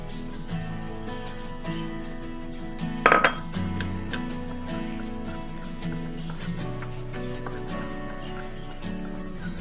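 Cookie dough with flour is stirred in a bowl, giving repeated soft scraping and tapping of a utensil against the dish, with one brief clattering clink partway through and music playing underneath.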